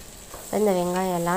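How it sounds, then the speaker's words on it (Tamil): Steady sizzling of onions frying in a pan for prawn biryani, a soft continuous hiss, with a voice starting to speak partway through. "இந்த வெங்காயம் எல்லாம் நல்லா வதங்கட்டும்."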